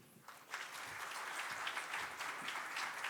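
A university event audience gives a round of applause: a faint, distant wash of many hands clapping steadily without pause.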